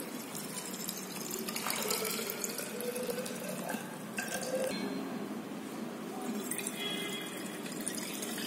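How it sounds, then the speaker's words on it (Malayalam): Distilled water pours steadily into laboratory glassware during a soil organic carbon test, a close, continuous trickling splash with no talking. "ഡിസ്റ്റിൽഡ് വാട്ടർ ഒഴിച്ചു"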